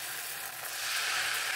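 Uttapam batter poured onto a hot, oiled griddle sets off a bright, hissing sizzle that grows slightly louder over a brief moment, heard up close with no voices.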